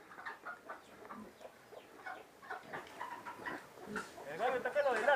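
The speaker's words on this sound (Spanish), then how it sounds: "El gallo está que lo delata." Rooster clucking outdoors during an airsoft game, a run of soft clucks building to louder agitated calls at the end, with people talking over it.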